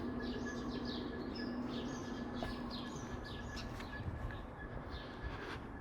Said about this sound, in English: Here are all types of birds.